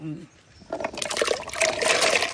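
Cut tapioca pieces are washed in water at home. After a brief pause, steady splashing and trickling begins and continues, close and fairly loud.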